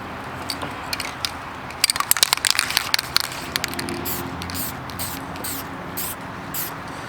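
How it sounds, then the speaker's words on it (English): Liberal spraying of CRC mold cleaner onto a rusted axe head, heard as a run of short, close hissing spray bursts with some crackling, alone without talk. "then spray the surface down pretty liberally"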